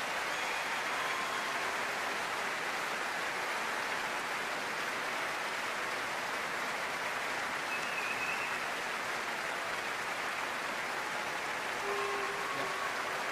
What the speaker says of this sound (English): Chorus Master Stephen Jackson and the chorus and singers getting a deserved round of applause